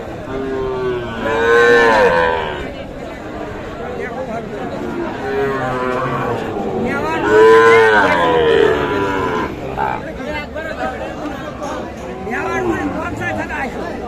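Sahiwal cattle calves low repeatedly with long, loud moos at a livestock market in Mymensingh, as people talk and haggle close by.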